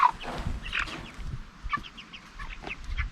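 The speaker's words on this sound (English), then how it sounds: "you can see that we have our meat birds." Meat chickens about three to four weeks old cluck in a pen out back, a loose flock of short overlapping calls and soft clucks with a few sharper notes, moderately close and continuous, with no talking.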